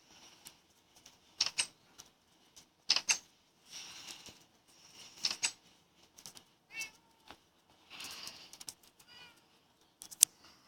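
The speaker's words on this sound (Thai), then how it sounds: "เดี๋ยวไอ้เหมียวมันมาให้แล้ว" A cat meows repeatedly, about a dozen short, separate calls spread unevenly with quiet gaps between them, close and fairly clear, with no voices.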